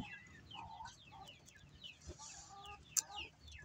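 A spurred fighting rooster gives a string of short, faint clucks and soft chirps, close by, with a brief sharp knock partway through.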